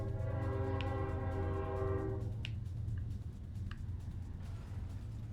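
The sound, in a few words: train passing outside a house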